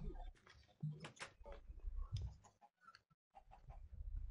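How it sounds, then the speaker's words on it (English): Minecraft chickens clucking in short bursts around a village well, mixed with game clicks and shuffling noises, fairly close and steady throughout with a brief quiet gap near the end. "There are two chickens stuck in the well."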